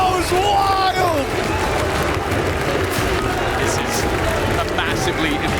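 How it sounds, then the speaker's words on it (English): An esports arena crowd roars and cheers after a Valorant match win at a quarterfinal, loud sustained cheering and whoops with an excited caster shouting over it. "the crowd goes wild!"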